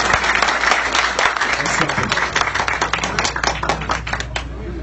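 A crowd applauds steadily at a public gathering in honour of the department, the dense clapping continuing with voices mixed in.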